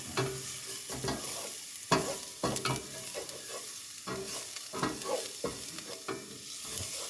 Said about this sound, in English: And stir the garlic. You want to stir it until it's golden brown.